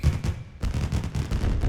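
Fireworks going off during the credits of the video game Sonic Superstars: a rapid run of booming, crackling bursts, dense and continuous with one brief lull.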